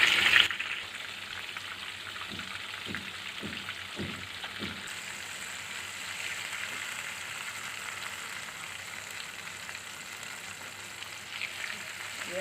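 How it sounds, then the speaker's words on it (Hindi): Soya chunk kebabs deep frying in hot oil, a steady broadband sizzle with a few soft pops near the start, continuous and close throughout. "अब बाकी के भी इसी तरह से हम डीप फ्राई कर लेंगे।"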